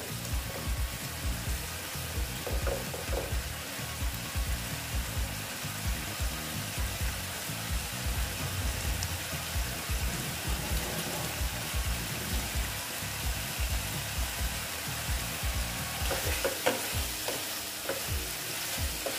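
Teasel gourd (kakrol) frying in oil with mustard in a pan, a steady close sizzle broken by repeated scraping and stirring strokes throughout, with no voices.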